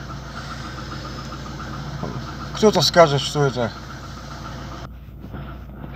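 A VAZ 2115 car engine idles with a steady low hum and a thin whistle from its alternator belt running underneath, while someone speaks over it for a moment before the engine tone cuts off near the end.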